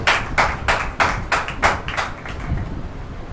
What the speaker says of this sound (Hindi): चलिए जोरदार ताली के द्वारा उनका स्वागत करेंगे।